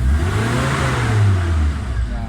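A Toyota Revo gasoline engine revs hard and steady under repair of its RPM gauge, the loud droning pitch climbing and then easing back across a couple of seconds with no break.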